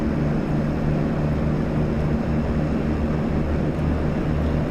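Twin-engine de Havilland Twin Otter turboprop drone in the FSX flight simulator, a steady, loud, continuous engine hum with low throbbing tones held evenly throughout, no talking.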